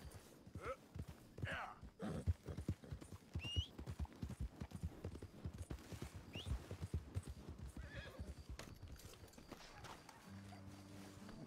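Hooves of a horse in Red Dead Redemption 2 clip-clop rapidly and rhythmically, with a few whinnies and snorts, then the hoofbeats slow near the end.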